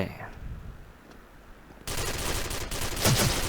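Rapid bursts of gunfire erupt after a quieter stretch, dense and close, from an XM8 machine gun in the game Special Force.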